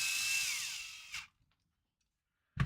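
A power drill drives screws into a crawler axle mount, giving a loud steady whine for about a second with a falling pitch. A short burst follows, then silence, then a sharp thump at the end.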